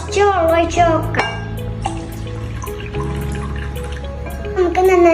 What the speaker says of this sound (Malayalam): കുറച്ച് വെള്ളം ഒഴിച്ച് നോക്കാം.